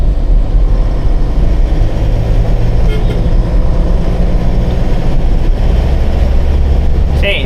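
Diesel engine drone of a 2024 Force Traveller 2.6 CRDi heard from inside the cabin on a midnight drive, a steady low rumble with road noise running continuously throughout.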